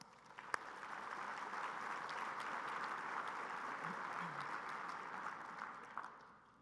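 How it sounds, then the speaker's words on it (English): Sustained applause from a large conference audience at a geospatial intelligence symposium opening session, a steady dense wash of clapping that holds evenly for several seconds before tapering off. "Please join me in giving them all a round of applause"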